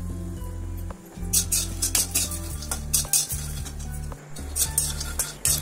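Fox nuts (makhana) frying over low heat in a pan, stirred with a metal spoon that scrapes and clinks against the pan in uneven bursts over a soft background sizzle and hum, fairly close and with no talking.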